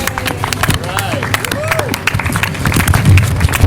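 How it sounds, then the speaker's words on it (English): An audience claps for a reopened university gymnasium at a grand reopening ceremony, a fairly loud, steady patter of hands with crowd murmur and brief voices rising above it. "Let's give the gym a round of applause"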